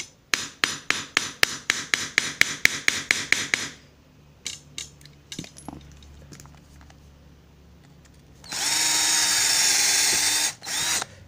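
A power tool fires in rapid repeated hits, then stops, followed by scattered clicks and a steady whirring run of an electric drill with an oversized bit near the end, while building a J-pole antenna.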